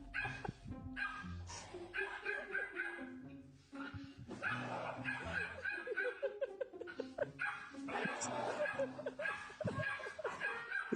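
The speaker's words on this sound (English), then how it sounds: "I featured several clips of dogs accidentally scaring their owners" Several dogs barking, yipping and whimpering in a played clip of an owner startling them, with excited bursts close together and short pauses, mixed with laughter and chatter.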